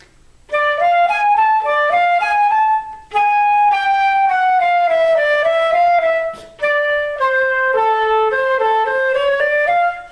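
Solo piano plays a slow jazz phrase, single melodic notes with sustained chords beneath, in three connected passages separated by brief pauses; no voices.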